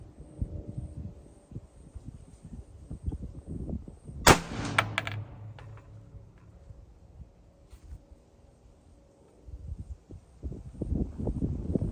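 A single loud, sharp rifle shot from a Daniel Defense rifle loaded with handloaded ammunition cracks and echoes outdoors at a range, with faint rustling and handling noise before and after.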